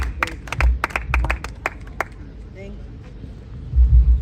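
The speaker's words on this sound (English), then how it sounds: "Ladies and gentlemen, a big round of applause" At a World Wildlife Day celebration in Lira City, a small audience claps in a burst of separate, uneven handclaps that thin out after a couple of seconds, leaving low rumbling room noise and a few soft thuds.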